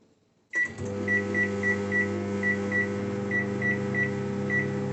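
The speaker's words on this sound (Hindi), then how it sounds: "Microwave mode full power 900 what पे हम इसमें 5 मिनट्स का टाइमर लगाएंगे।" A microwave oven runs at full power, 900 watts, starting with a click and then a steady, close hum, with a faint rhythmic whine repeating over it.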